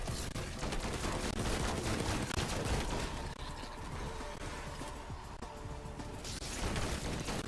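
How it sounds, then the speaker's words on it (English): Shotgun blasts and heavy gunfire fill a Call of Duty Zombies boss fight, a dense, loud barrage of repeated bursts and booms layered with chaotic game effects throughout. "just to be cocky, I'm gonna use my shotgun on him"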